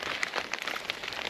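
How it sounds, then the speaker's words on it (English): Rain falling outdoors on a homestead garden in Portugal, a steady close hiss of drops striking surfaces with scattered louder individual splats, continuous throughout with no talking. "These raindrops are getting bigger and harder, so I don't know about this."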